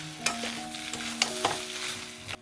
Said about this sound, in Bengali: এবার খুব সুন্দর করে নাড়াচাড়া করে একটু ভেজে নেব